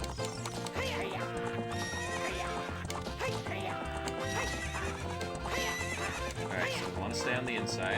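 A horse neighs and hooves pound at a gallop during a race in The Legend of Zelda: Ocarina of Time, mixed into dense, busy music that plays throughout.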